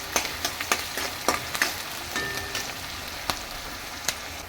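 Sliced onion fries in hot oil with bay leaf and cumin seeds, giving a soft continuous sizzle broken by sharp crackles and spatula taps against the pan.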